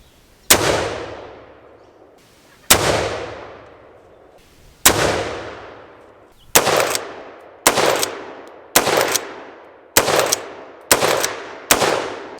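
A Wedgetail MPR308 rifle fires nine loud, sharp shots, each followed by a ringing decay. The first shots come about two seconds apart, then the shots speed up to roughly one per second.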